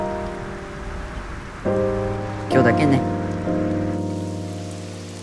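Steady rain falls at night beside a riverside residential street, a constant hiss with a thunder-like rumble partway through, under quiet sustained music tones while a person speaks briefly.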